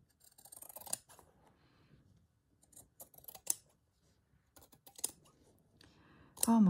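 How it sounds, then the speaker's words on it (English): Scissors snip and trim embroidered fabric in a few separate bursts of cutting, close and fairly quiet, with short pauses between the cuts and no speech. "I might flip that and just trim it a little bit."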